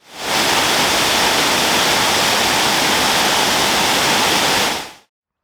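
Steady, loud rushing water roars continuously from a river waterfall on the upper River Severn in Wales, a dense broadband wash with no pauses until it cuts off at the end.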